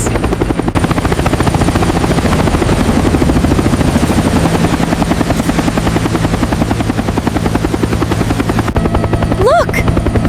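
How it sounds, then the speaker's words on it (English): Helicopter rotor beating steadily and loud, a dense rhythmic thudding that stays close and constant throughout, with a brief voice near the end. "Helicopter! They found us!"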